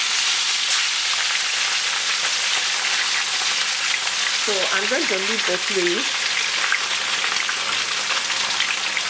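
Fish fries in hot oil, sizzling and crackling steadily in a pan, loud and close, while a voice speaks briefly over it.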